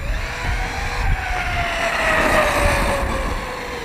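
An Arrma Typhon RC buggy on 4S power runs continuously, its motor whining in a rising and falling pitch with steady gravelly rolling noise as it drives around nearby.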